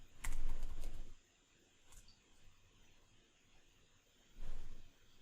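Keys on a computer keyboard tapped to enter a reboot command in a Linux terminal: a quick, faint burst of keystrokes, a lull, then a final firm press or two, with no talking.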